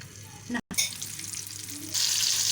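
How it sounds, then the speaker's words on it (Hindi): Green chillies fry in hot oil in a frying pan, starting with a short clatter and gap, then a close crackling sizzle that grows brighter and louder toward the end. "फ्राई होनी शुरू हो गई हैं"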